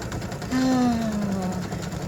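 An embroidery sewing machine stitches the loop of a freestanding lace candy cane earring, a steady close mechanical hum lasting about two seconds while a voice briefly sounds over it.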